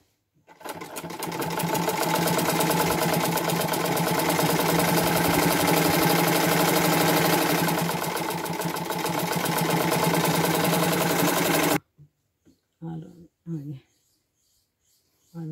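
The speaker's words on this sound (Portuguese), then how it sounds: "vai passar devagarzinho nessa costura grossa. Não moda agulha não quebrar." A sewing machine runs slowly and steadily through a thick seam of a simple homemade rug for about eleven seconds, then stops abruptly, followed by a few brief handling noises.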